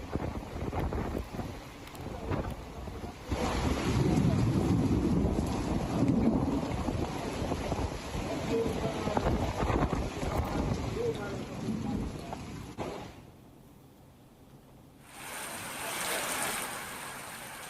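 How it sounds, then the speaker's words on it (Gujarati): Strong wind roars and buffets the microphone during an unseasonal thunderstorm in Dang district, Gujarat, surging and easing in gusts, loud and close, before briefly dropping off and then rising again. "સમગ્ર જિલ્લામાં ભારે પવન સાથે વરસાદ છે."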